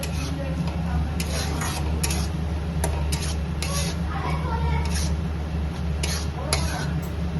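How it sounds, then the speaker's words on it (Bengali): Ginger and garlic paste stirred in a pan for a dried fish and potato curry, giving repeated soft scraping and clinking strokes over a steady low kitchen hum. "তারপরে তার মধ্যে আদা বাটা আর রসুন বাটা দিয়ে নাড়িয়ে চাড়িয়ে নিতে হবে।"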